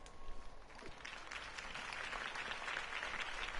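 A crowd in the Batman Telltale video game claps steadily and continuously after a speech, heard faint and distant, with no voices standing out.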